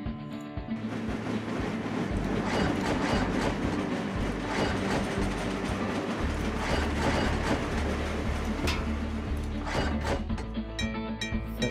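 A train in the game Train Crisis runs along its track with continuous rhythmic clickety-clack and mechanical rattling, loud and close throughout, with no talking.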